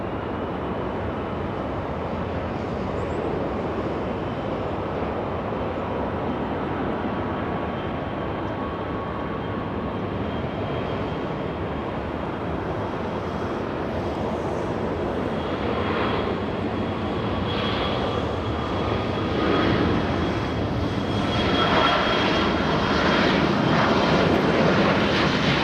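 A jet airliner on takeoff roll from runway 24 Left at Los Angeles International Airport gives a steady, distant engine roar that builds slightly louder toward the end, with no voices.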